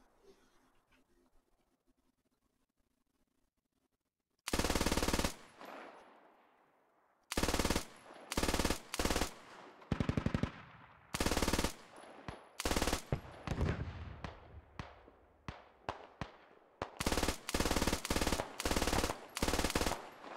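Gunfire in the video game Squad: after a quiet opening, loud close bursts of automatic rifle fire crack out again and again, some in rapid strings and some as separate volleys.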